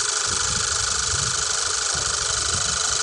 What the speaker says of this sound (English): We need to start engine for 5 seconds